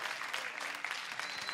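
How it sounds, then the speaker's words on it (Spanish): A festival crowd claps for a band after the members are introduced at the Eterogenia 2019 band festival. The applause is steady and moderately distant, with a few scattered cheers mixed in. "Un fuerte aplauso."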